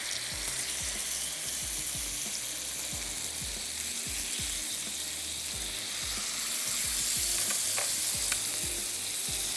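Pieces of Italian-style chicken sizzle on a hot grill pan in a steady, close hiss, broken by repeated soft clicks and scrapes as the meat is turned, with no voices.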